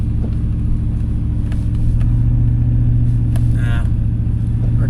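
Car climbing a snowy hill in two-wheel drive on Goodyear SRA tyres, a steady low engine drone and road rumble running throughout with a brief voice partway through.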